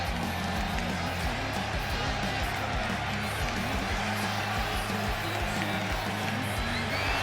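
A wrestling crowd in Rochester cheers, claps and whoops as wrestler Dalton makes his entrance, a steady dense roar filling the hall with a commentator talking over it.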